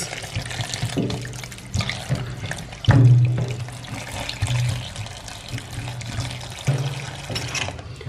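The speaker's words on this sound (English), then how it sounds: "I've rinsed my corn." Fresh sweet corn being rinsed by hand in a basin of plain water, with steady splashing and sloshing, a few louder swirls and pours standing out, close and alone without talk.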